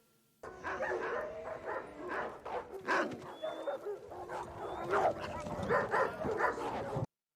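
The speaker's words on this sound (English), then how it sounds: "What are they barking at?" Several dogs bark and whimper in short bursts, fairly close, with yips mixed in and a faint whistle-like tone in the middle.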